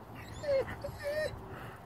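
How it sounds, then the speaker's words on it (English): A Doberman whimpers in two high, thin, drawn-out whines, close by, over a faint room background with no speech during the sounds. "You're a complaining dog?"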